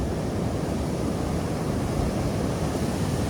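Steady roar of ocean surf mixed with wind buffeting the microphone on the dune coast near Florence, Oregon, broadband and continuous at moderate level.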